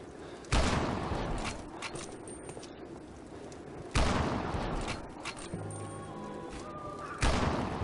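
Three loud, sharp sniper rifle shots from the PC game Land of the Dead, spaced a few seconds apart, each a sudden close crack that decays into a ringing tail and game ambience.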